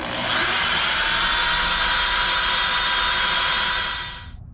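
Power drill boring holes in metal on a John Deere 787 strip till, one steady high whine held for about four seconds close by, then winding down abruptly.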